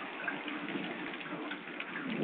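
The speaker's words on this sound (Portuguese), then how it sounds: "Tá chovendo só." Steady rain falls continuously, a dense hiss of drops on surfaces, with no voices.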